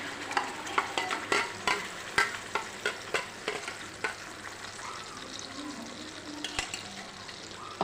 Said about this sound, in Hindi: गैस की फ्लेम को लो कर देंगे और इस ग्रेवी को तेल में डाल देंगे।